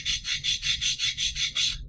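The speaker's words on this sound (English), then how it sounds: "So I'm going to be using my handy dandy sandpaper" Sandpaper is rubbed lightly by hand across a small model part, nine quick, even back-and-forth scratching strokes in a steady rhythm, close and fairly quiet.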